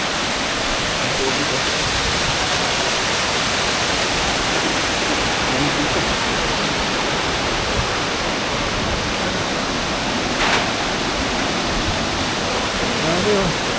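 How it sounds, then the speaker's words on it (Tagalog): Ubot Falls, a waterfall in Villa Aurora, Maria Aurora, Aurora province, pours in a steady, broadband rush heard up close, an unbroken wash of falling water that holds level throughout. "So ito na yung mga idol. Yung Ubud Falls."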